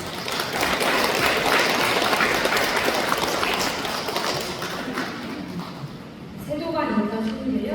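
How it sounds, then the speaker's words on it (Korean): Audience at a Buddha's Birthday celebration ceremony claps in a dense, loud burst of applause that gradually fades, after which a voice starts speaking. "큰 박수"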